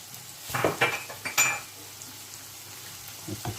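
Onions being stirred as they fry in a pan for an omelette: scraping utensil clinks and clatters against the pan in short bursts over a low, steady sizzle, close and fairly loud.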